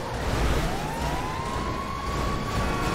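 A siren tone rises and holds over a rumbling engine and road noise in GTA V, fairly close and continuous.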